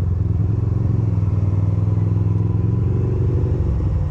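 Ducati motorcycle riding in New York City with the engine hot after an earlier breakdown, a steady loud engine drone with low rumbling harmonics running continuously throughout.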